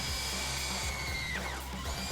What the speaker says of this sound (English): Now just drill out that hole using a 3/8 inch drill bit.